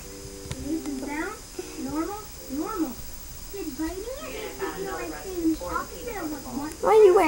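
A cat whines and meows in a run of rising and falling cries, close and fairly loud, with a louder yowl at the end.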